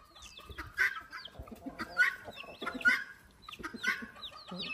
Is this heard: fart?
no